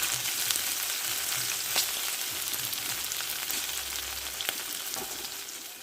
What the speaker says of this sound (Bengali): ভেন্ডিটা এইভাবেই ভাজতে হবে এতে জলের কোনো অংশ দেবো না